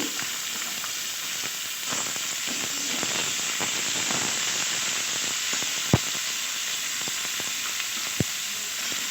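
Potatoes sizzle steadily in hot oil in a pan for a Maggi fry, a dense continuous crackle with two sharp utensil clicks near the end and no talking.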